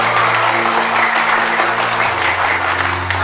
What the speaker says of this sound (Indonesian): Gue minta tepuk tangan buat polisi Indonesia yang selalu menjaga keamanan di Indonesia.